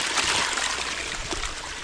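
Steady close trickle of water running out of a water supply pipeline over gravel, a continuous gentle wash with no talk.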